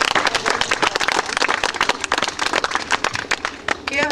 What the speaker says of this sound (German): Großer Applaus für Fritz Schuster